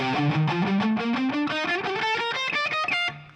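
A distorted electric guitar runs up a Dorian scale in quick, even single notes, climbing steadily in pitch with no talking.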